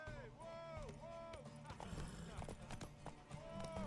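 Horse hooves clip-clopping at a gallop in The Witcher 3, a fast rhythmic beat mixed with game sounds and voices talking over it.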